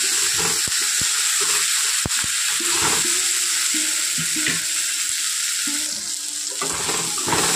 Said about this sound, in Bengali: তো এখন মশলাটা আমার আগের থেকে অনেকটাই ভাজা হয়ে গেছে।